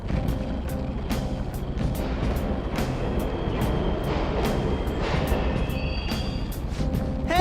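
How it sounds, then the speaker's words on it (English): Subway trains running in Persona 5, a continuous rumbling roar with rhythmic clacks passing steadily through the underground tunnel, with no talk over it. "The trains are totally running."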